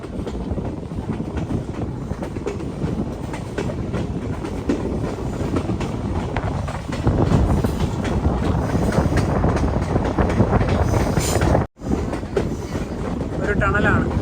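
A passenger train on the Haflong to Guwahati line rolls downhill through hilly country after dark, with a steady, loud rumble and rail noise throughout and a brief dropout near the end, as it heads toward a tunnel.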